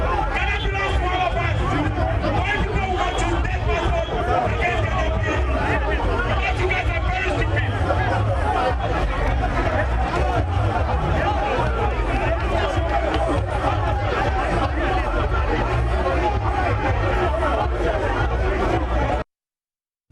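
An agitated crowd of protesters scuffles with Ghana Police Service personnel, a loud, steady wall of overlapping shouting and chatter from many people close by, running unbroken for about nineteen seconds before cutting off.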